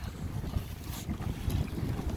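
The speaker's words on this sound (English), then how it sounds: "it's just really windy, pretty wavy" Strong wind buffets a small 34-year-old Sunfish sailboat on wavy water, a constant rough, gusty rush with splashing and no talking.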